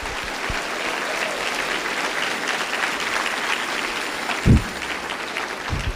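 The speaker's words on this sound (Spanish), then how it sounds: "Dale un aplauso a nuestro Padre." A church congregation claps in steady, sustained applause throughout, filling the room evenly, with one brief thump near the end and no speech over it.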